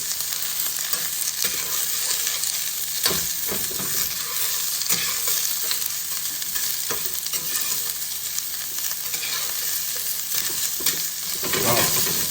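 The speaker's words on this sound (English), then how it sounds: "Give that a nice mix around." A bacon, mushroom, cabbage and onion keto stir-fry sizzles steadily in a pan while being stirred, with periodic scraping and tossing sounds over a loud, continuous fry.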